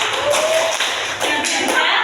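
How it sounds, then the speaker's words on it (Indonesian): Group of parents and children doing a 'tepuk semangat' spirit clap at a parenting workshop, a quick rhythmic run of claps in bursts, close and fairly loud. "tepuk semangat dulu, tepuk semangat baru"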